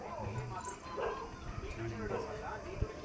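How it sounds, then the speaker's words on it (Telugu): Dogs growl and yip in short, fairly faint bursts, mostly buried under people talking nearby. "కుక్కలు మురుగుతున్నాయి"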